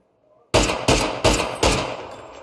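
Gunfire in PUBG: four loud, evenly spaced shots ring out close after a brief quiet start, each trailing into a short echoing decay.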